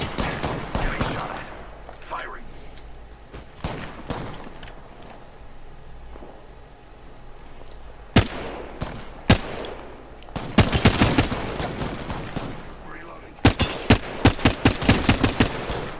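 Gunfire in the battle royale shooter Apex Legends, loud sharp automatic bursts and single shots scattered throughout, clustering into rapid volleys near the end, with some quieter footsteps and game noise between.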